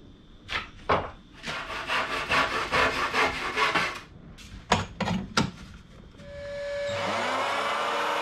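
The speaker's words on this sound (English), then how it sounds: "First, let's cut some bits of framing." A hand saw cuts wooden framing pieces for a small skiff, making close, rhythmic rasping strokes in bursts with short pauses between them, followed by a steadier mechanical hum at the end.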